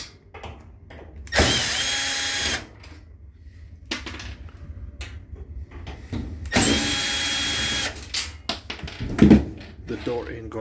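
A power drill backs out the door screws on a Maytag MDE6400AZW dryer in two loud sustained whirring bursts, followed by shorter clicks and knocks, close up.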